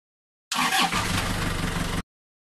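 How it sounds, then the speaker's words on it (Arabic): A farm tractor engine runs loud and close for about a second and a half, a rough low chugging drone that starts and stops abruptly, with no voices. "جرار زراعي"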